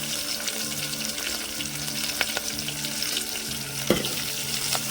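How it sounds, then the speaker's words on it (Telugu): Onion pieces frying in hot tempering oil with a pinch of asafoetida for tomato rasam give a continuous close sizzle and crackle, with a few light clinks of utensils. "లాస్ట్కి ఉల్లిగడ్డ ముక్కలు వేసుకున్నామండి"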